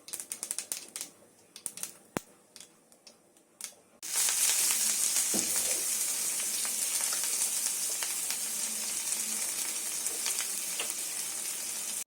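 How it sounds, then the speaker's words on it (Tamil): Mustard seeds hit hot oil in a Tamil banana-flower stir-fry, and after a few quiet clicks a loud, dense, continuous sizzle erupts, crackling and popping without a voice. "இப்போ வந்து கடுகு போட்டுக்கிறான்"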